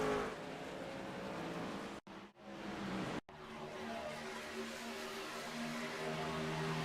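Race trucks roaring around Kentucky's oval in a Truck Series event, a steady dense engine drone broken by two brief cutouts, heard at a moderate distance and without talk.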